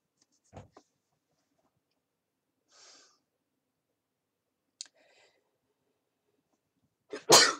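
A single sharp sneeze bursts out loudly at the very end, after a quiet stretch broken only by a few soft clicks, a breath and small thumps.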